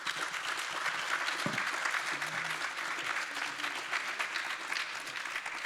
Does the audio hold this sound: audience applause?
yes